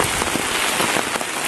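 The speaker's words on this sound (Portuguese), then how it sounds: "A chuva tá muito mais forte" Heavy rain pours in the Bahia backcountry at dusk, a dense, loud, continuous hiss of drops pattering on surfaces without pause.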